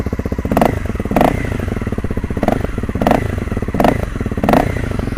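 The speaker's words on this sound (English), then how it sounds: "Actually, sounds pretty much like a normal dirt bike now." A 2014 Honda CRF250L dual-sport motorcycle idles nearby with a throaty, steady engine chug, loud and close, while periodic thumps or light revs punctuate the running note about every half second to second.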